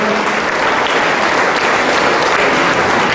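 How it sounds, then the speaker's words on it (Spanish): A congregation at Sunday Mass in the San José parish of Metalío applauds a candidate from El Maguey with loud, continuous clapping that holds evenly throughout, with no voices standing out. "Maguey, un fuerte aplauso"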